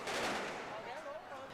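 Police firing rubber bullets and stun grenades to disperse a crowd in the streets near a football stadium, a loud, dense burst of blasts and cracks over crowd noise, with voices mixed in.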